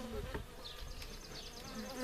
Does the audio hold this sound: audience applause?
no